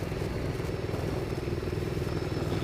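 A Ducati Multistrada 1200 motorcycle engine drones steadily in third gear while riding off-road at about 50 km/h. The note is a loud, continuous, close-up rumble with rhythmic pulsing, and no one speaks over it.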